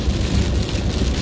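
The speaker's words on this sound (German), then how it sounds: "Hier ist noch wenig Regen." Steady rain falls during a thunderstorm, a dense, continuous hiss and patter close by with no breaks or talk.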